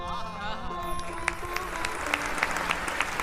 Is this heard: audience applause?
yes